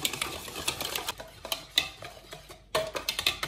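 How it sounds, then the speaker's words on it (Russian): Pancake batter with a pinch of salt and sugar being stirred by hand in a bowl, a close run of quick scraping, clicking strokes that pause briefly before picking up again. "добавляю соль, щепотку и сахар. Хорошо перемешиваем."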